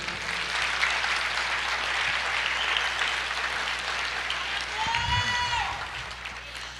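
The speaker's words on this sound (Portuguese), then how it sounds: "aplauda o Senhor" A church congregation applauds during a sermon, a broad steady patter of clapping filling the room, with a brief tonal voice or cry rising near the end as the applause continues.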